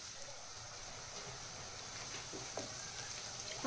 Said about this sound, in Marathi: आपला कांदा इथे फ्राय झालेला आहे आपण अजून एक दोन मिनटं ह्याला छान अजून फ्राय करून घेऊया